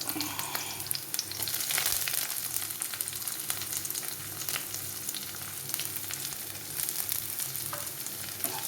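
Onion and chili sizzle steadily as they fry and are stirred in a pan for a Kerala taro-stem thoran, a dense, continuous crackle with occasional scrapes, close and fairly quiet, with no talking.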